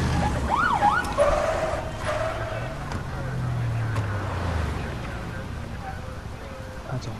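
A police car siren from the video game A Way Out, a rising and falling wail in the background under game music and ambient noise, with no speech over it.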